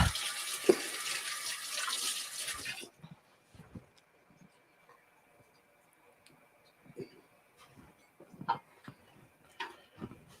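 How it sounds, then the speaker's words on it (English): Water runs from a kitchen tap for about three seconds as someone washes their hands, then cuts off, leaving faint clinks and small handling sounds. "I'm going to wash my hands real fast."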